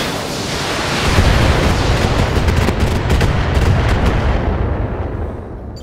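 Mech weapons from Battletech let loose in a heavy, sustained barrage, a loud rumbling roar with rapid crackling impacts that swells after a second and slowly fades, no voices over it.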